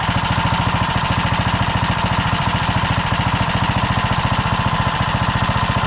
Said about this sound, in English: Turbo spinning.